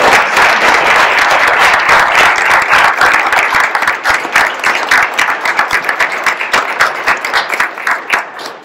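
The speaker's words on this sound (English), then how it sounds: "So I think we need to give him a huge applause." A parish meeting audience gives loud, sustained applause that stays dense for several seconds, then thins into scattered individual claps as it dies down.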